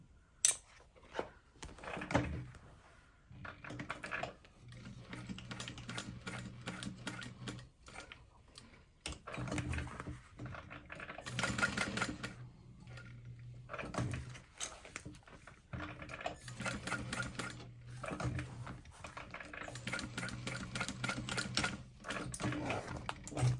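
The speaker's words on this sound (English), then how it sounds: "So I'm just gonna do a box stitch." A sewing machine sews a box stitch on a bag handle, running in repeated bursts of rapid mechanical ticking separated by short pauses, close and fairly loud, with faint talk in between.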